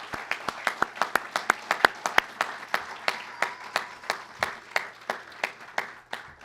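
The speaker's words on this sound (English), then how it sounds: "everybody, you deserve a big round of applause." Audience applause at a track and field head coach's introductory press conference: a steady run of sharp, fairly close claps with a thin crowd of hands, fading slightly toward the end.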